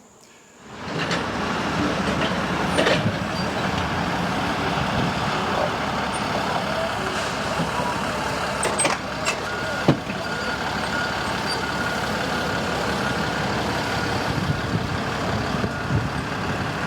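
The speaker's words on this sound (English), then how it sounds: "Today we're wasting no time getting these trucks unloaded." Heavy trucks at a bee farm, arriving to be unloaded, with a loud, steady engine rumble rising after a quiet start and a few clanks and beeps over the drone.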